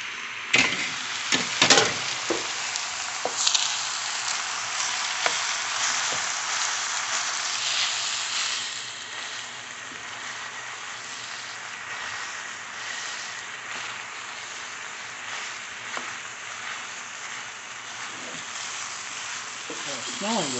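Onions and ground meat frying in a pan for chili, a steady broadband sizzle that runs the whole time, with a few sharp clatters early on and light handling noises throughout.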